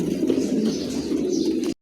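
Brief low cooing from a pair of pigeons, soft and close, lasting under two seconds before cutting off abruptly.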